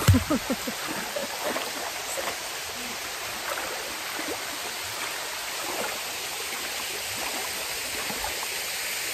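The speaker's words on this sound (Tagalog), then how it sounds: "Ayan ang falls." A steady broadband rush of a forest waterfall at Momarco Forest Cove in Tanay, Rizal, continuous and full throughout, with a few brief knocks at the start.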